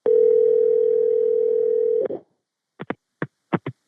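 Telephone dial tone for an outgoing call, a steady tone held for about two seconds and then cut off, followed by a quick series of short dialing beeps.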